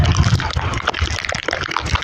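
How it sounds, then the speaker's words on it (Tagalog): Strong storm waves splash and slosh around a huge ship blown ashore by wind, a dense, continuous churning of water with bursts of splatter close by. "Napakalaking barko na nadala ng hangin at saka yung malakas na alon"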